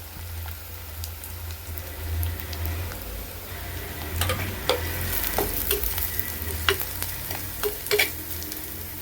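A little onion, a couple of curry leaves and some grated coconut sizzle in a pan, with a constant frying hiss broken by close scraping stirs and small crackling pops that grow busier toward the end.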